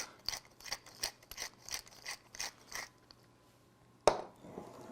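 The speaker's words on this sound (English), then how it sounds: "And then a nice grinding of black pepper." A pepper mill grinds black pepper over mashed potatoes in about eight quick, rhythmic ratcheting twists, close and fairly quiet, then stops and is followed by a single sharp clatter; no speech.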